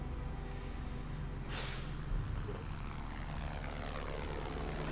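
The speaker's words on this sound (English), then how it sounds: "There's a helicopter." A helicopter in the game Project Zomboid passes overhead as a steady, moderately loud rotor drone with a continuous low throb that holds throughout.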